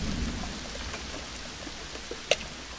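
Rain falls steadily near a dugout shelter during a strong storm outdoors, a soft continuous hiss with scattered drops and one sharper tap, heard alone without talk.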